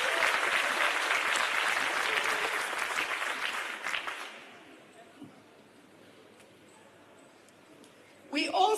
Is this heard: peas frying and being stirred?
no